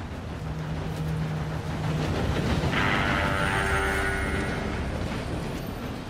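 A train approaches in Red Dead Redemption 2 with a steady low rumble that swells, and a drawn-out whistle-like tone sounds midway before the rumble settles.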